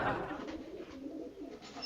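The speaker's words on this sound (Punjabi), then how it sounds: "ਲੈ ਕਬੂਤਰ ਰੋਣ ਲੱਗ ਪਏ ਨੇ" Pigeons coo close by in a steady, throaty, rolling burble that carries through the whole moment, with no other sound standing out.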